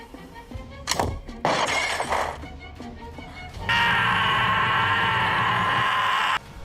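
In a film scene, a gunshot smashes a glass bottle held in someone's hand. Sharp crashing bursts come near the start, and a sustained, steady tone follows for several seconds.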